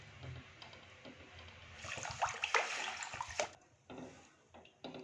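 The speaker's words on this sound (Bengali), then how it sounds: "এবার দিয়ে দেবো পরিমাণ মতো জল" Water pours into a pot of rice ball soup, a close splashing gush that swells after a quiet start, runs for a couple of seconds, then stops and trickles briefly again.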